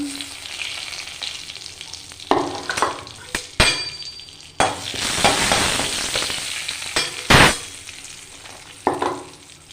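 Dried red chilli, panch phoron and torn bay leaf crackle and sizzle loudly in hot oil, with bursts of spattering, a few scraping stirs and clinks against the pan.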